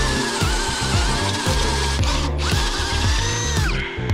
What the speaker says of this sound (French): il va falloir que je perce l'avant de ma traverse